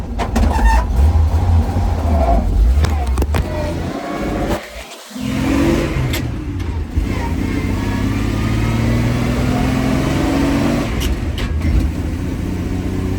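A 1940s Dodge truck, a 1942 model, revs its engine while driving, a loud, steady low drone with rising pitch sweeps as it pulls through the gear, briefly dipping around the middle before climbing again.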